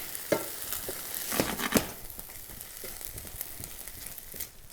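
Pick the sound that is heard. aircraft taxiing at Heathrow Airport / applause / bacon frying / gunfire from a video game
bacon frying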